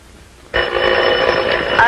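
A telephone bell in a 1951 detective drama rings loudly and continuously, starting abruptly after a brief quiet moment with a bright metallic trill that fills the rest of the moment.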